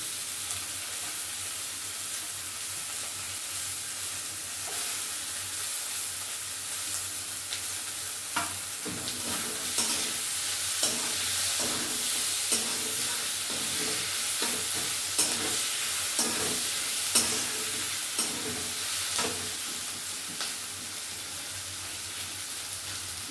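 Slit green chillies, chopped capsicum and tomato fry in oil in a village kitchen, giving a constant sizzle; from about the midpoint, rhythmic spatula strokes scrape and tap the pan; no speech.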